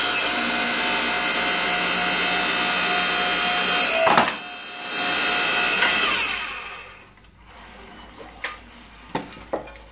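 Harbor Freight 5 ton electric log splitter, its motor whining loudly and steadily, briefly dipping and surging before shutting off, followed by the ram returning with scattered clunks and knocks.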